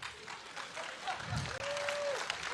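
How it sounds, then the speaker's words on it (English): A crowd applauds in a steady wash of clapping that lasts a few seconds, with voices mixed in. "they're applauding"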